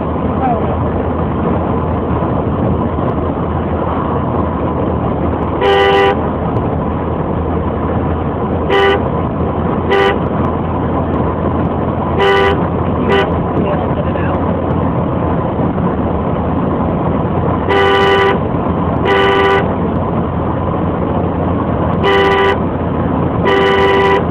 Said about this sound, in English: No need to honk next to the prison.